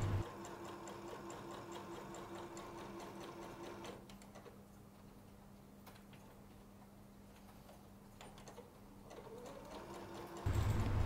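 Sewing machine stitching the edges of a Chanel-style fabric flower brooch, a close, rapid mechanical whir that runs steadily, quiets for several seconds, then starts up loudly again.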